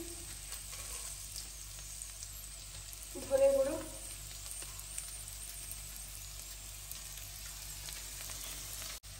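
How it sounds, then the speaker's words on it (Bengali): Steady sizzling and crackling of chicken frying in a hot pan runs throughout, with a voice speaking briefly over it. "এই চিকেনটা এরকম ভাজা হয়ে গেছে"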